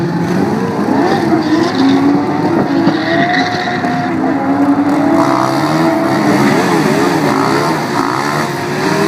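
Race cars at the start of the Rauma Street Race 2014, a steady loud roar of engines building and shifting in pitch, with no speech.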